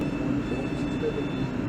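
Steady low rumble inside a ScotRail passenger train running toward Belgrove station, a continuous close carriage drone with faint voices over it throughout.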